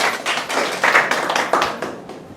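A church congregation claps together in praise during a Christian worship service. The sharp, close, rhythmic hand claps come in steady pulses for a couple of seconds.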